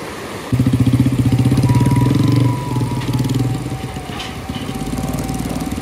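A motorcycle engine runs close by on a makeshift emergency bridge at Koto Rawang, a loud buzzing putter that drops in intensity partway through, then carries on at a lower, steady idle.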